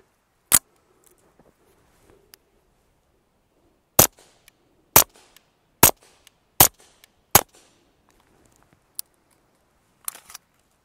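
Five suppressed rifle shots with subsonic Gymtech ammunition through an El Camino suppressor by Q crack out as sharp, sparse reports at irregular intervals, separated by small mechanical clicks and followed by a final muffled flurry of handling noise.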